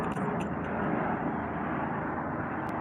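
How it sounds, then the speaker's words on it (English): An airplane flying overhead gives a steady, fairly loud broadband roar that fills the whole stretch, with a few faint clicks near the start. "I don't know if y'all can hear that airplane."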